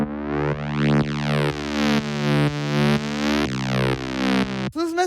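A synth pad layer built in Ableton Analog from two detuned saw waves, sustaining thick harmonic chords that shift every half second with sweeping filter movement, loud and alone, ending in a brief glitchy burst.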